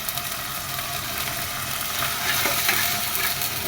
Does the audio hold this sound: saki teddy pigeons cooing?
no